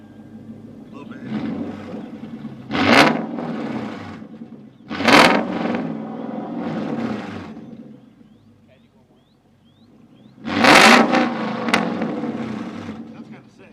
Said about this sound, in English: That really makes me want to change up the exhaust because that sounded pretty good actually.